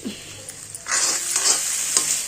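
Onion and tomato paste with ground curry leaves fries in a pan for an eggplant masala, a steady close sizzle that swells louder partway through, with soft stirring scrapes and no talk.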